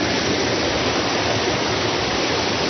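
Mountain water flows steadily into a carpet rinsing pool, a dense, even rushing that stays constant and close throughout with no voices.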